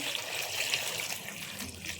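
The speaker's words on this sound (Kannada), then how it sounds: "ಅದಕ್ಕೆ ಸ್ವಲ್ಪ ನೀರು ಹಾಕಿ" Water splashes and trickles steadily into a pressure cooker holding tomato and ridge gourd for about two seconds, a continuous close pouring sound with no voices.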